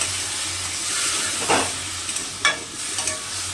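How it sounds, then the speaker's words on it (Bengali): Spices and water sizzle in a pan while an egg curry is sautéed, a steady hiss with a few louder bursts of stirring and spatter throughout. "এবার একটু জল দিয়ে দিলাম, না হয় মশলাটা পুড়ে যাবে। এবারে ভালোভাবে কষাবো।"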